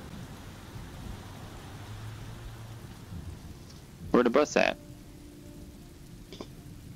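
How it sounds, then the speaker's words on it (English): Steady rain falls in the video game Road 96, a dense even hiss throughout, with possible thunder rumbling low underneath; a voice briefly speaks midway. "It's raining now."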